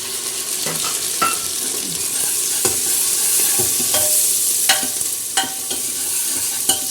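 Close, loud sizzling of tadka spices in hot oil, with tomatoes added, and a spoon scraping and clicking against the pan as it is stirred.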